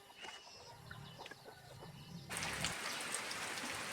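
Rain falls outdoors in a rural village, starting as scattered drips among faint bird calls, then suddenly swelling into a loud, steady hiss of rainfall with no talking.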